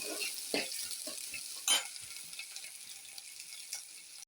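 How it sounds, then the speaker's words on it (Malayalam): Green chillies sizzle in a hot pan while a utensil stirs them, steady frying hiss under scattered scraping strokes and one louder clatter, close and fairly quiet. "അത് നന്നായിട്ടൊന്ന് ഇളക്കി കൊടുക്കണം"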